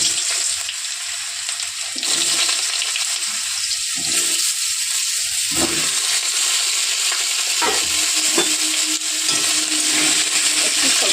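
Potato pieces fry in leftover fish oil for an onion-greens curry, a loud, close sizzle with bursts of scraping and stirring in the pan throughout, no voices over it.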